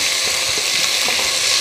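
Finely chopped onions dropped into hot spiced oil over a medium flame for a spicy chicken curry, giving a steady, close hiss of frying with a few soft stirring rustles and no talking.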